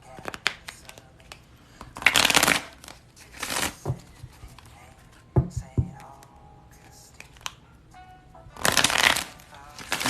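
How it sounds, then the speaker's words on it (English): Deck of playing cards being shuffled in several loud riffling bursts close by, separated by quieter handling and clicks, with talking in between. "I didn't even get the card yet. I only started shuffling."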